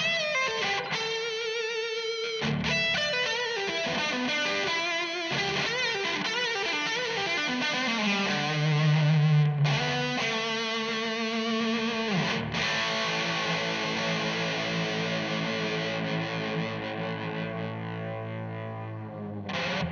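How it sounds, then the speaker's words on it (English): An electric guitar plays through a VOX VXII modelling amp set to a high-gain British tone with hall reverb, giving continuous distorted riffs and sustained chords that ring into a spacious tail. "We're going to check out some of the high gain British vintage modern tones with a bit of Hall"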